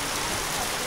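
Heavy rain falls steadily, a dense, even hiss of downpour filling the short stretch without letup, close and moderately loud with no voices.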